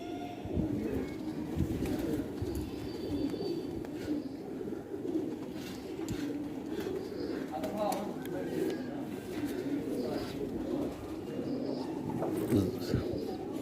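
Soft, repeated pigeon coos murmur in the background while a person talks over them nearby.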